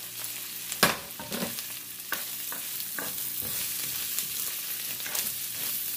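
Squash and string beans sauté in a hot pan for a Filipino ginataang gulay with crab, giving a steady close sizzle broken by several sharp scrapes and clatters from stirring.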